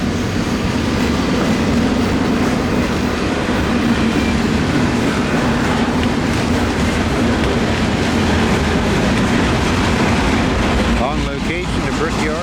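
Intermodal freight train rolling past on track 2 at a rail yard, a loud, continuous rumble of wheels and cars close by with rhythmic clatter throughout.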